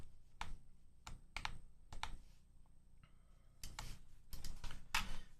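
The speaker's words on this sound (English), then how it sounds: "Let me do a quick typing test for you." Quick typing on a Stellar65 mechanical keyboard fitted with Water King switches gives bursts of crisp, close clacks in irregular clusters, separated by brief pauses.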